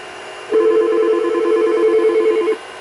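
A Yealink T46S desk phone gives one continuous DTMF dial tone lasting about two seconds, loud and close, against a faint background hum.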